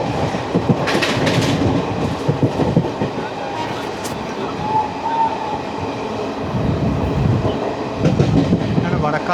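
Steady rumble and clatter of the 12075 Jan Shatabdi Express with ICF coaches running on rails near Vadakkanchery station, a dense continuous roar with rhythmic wheel clicks and occasional high squeals, loud and close throughout.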